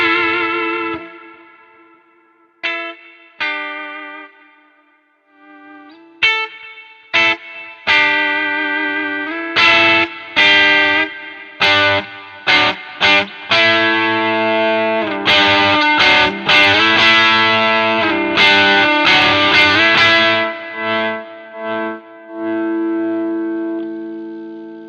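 An Arrow Telecaster-style electric guitar plays through effects with distortion and chorus as its volume and tone knobs are tested. Sparse picked notes and chords grow denser and louder, ringing close and clear, with no talk.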